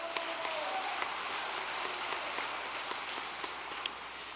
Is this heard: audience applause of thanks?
yes